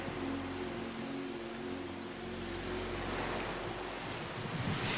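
Ocean surf washes in a continuous broad roar, with wind buffeting the microphone and a low engine hum underneath.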